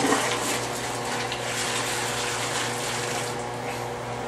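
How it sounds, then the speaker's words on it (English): Very hot pasta water being dumped into a kitchen sink, a steady, loud gushing pour that runs without a break for about four seconds, heard close up. "we're going to just dump this really hot water in the sink"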